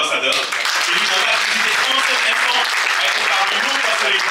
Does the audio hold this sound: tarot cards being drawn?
no